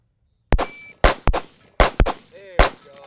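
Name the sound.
gunshots from rifle shooting with iron sights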